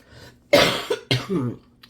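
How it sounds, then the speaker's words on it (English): Two harsh coughs in quick succession from lingering illness, close and loud, the second trailing into a rough rasp. "the little coughing fits are all that's really left of my sickness from last week"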